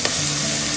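Carrots cooking in a hot pan for chicken fried rice, a loud, dense, continuous sizzle filling the short moment, close and without voices.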